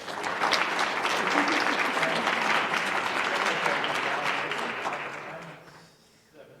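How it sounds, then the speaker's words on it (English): A conference audience gives a panel a round of applause: dense, sustained clapping at an even level for several seconds, then thinning out and fading near the end. "Give this panel a round of applause."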